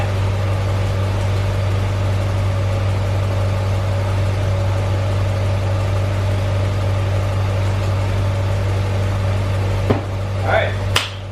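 A Honda B16 swapped engine idling quietly, a steady low hum and drone held evenly throughout, with a couple of brief clicks and a short tonal sound near the end.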